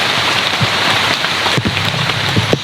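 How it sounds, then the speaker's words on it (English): Water drips steadily off the Amazon jungle canopy after rain has stopped, a dense close patter of drops on leaves with a few heavier plops, no voices. "It's just water coming off the canopy at this point."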